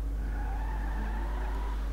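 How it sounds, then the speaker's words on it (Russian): Rear wheels of an Annis 300R, a rear-wheel-drive car in GTA 5 Online, spin in place with a steady whining engine drone and faint tire-skid hiss, continuous and fairly close for two seconds. "Так, вращаются у нас только задние колеса."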